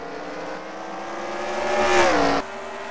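Race car engines from a Cars Piston Cup racing video game, running the All-Star Race at North Wilkesboro Speedway, drone steadily, then swell louder and rise in pitch before cutting off sharply near the end.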